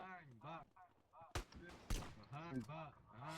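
Two sharp, loud gunshots from a GTA video game burst out a half-second apart, cutting through ongoing voices talking.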